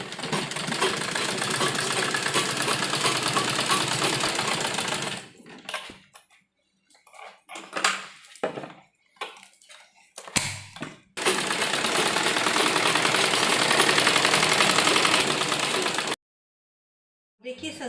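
Sewing machine stitching lace onto a salwar hem: a dense, fast mechanical whir runs steadily for about five seconds, breaks into short stop-start bursts, then runs continuously again before a brief pause and restart.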